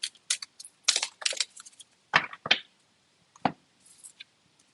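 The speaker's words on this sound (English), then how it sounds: "Let's do a shuffle." A deck of oracle cards is shuffled by hand, a series of crisp papery riffles and flicks in short bursts with pauses between, close and clear with no talking.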